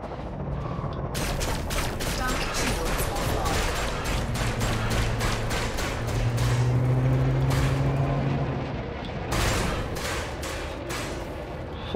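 Rapid bursts of spaceship weapons fire in the Elite Dangerous video game, sharp repeated shots in quick volleys over a low droning engine hum and deep tones, loud and continuous with brief pauses between bursts.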